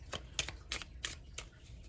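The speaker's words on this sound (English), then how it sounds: "And so I'm just going to shuffle this on camera" A Lenormand deck of cards being shuffled by hand, a run of about five crisp riffling bursts at a steady rhythm, close and fairly quiet, with no talking.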